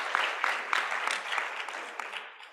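An audience claps together in a dense burst of applause that tapers off toward the end.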